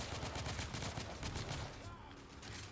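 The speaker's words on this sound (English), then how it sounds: "I'd rather have this auto rifle. It's actually an automatic." Automatic rifle fire in the Victorian-era shooter video game The Order: 1886: a steady stream of rapid, dense shots lasting a couple of seconds before trailing off, with a voice faintly underneath.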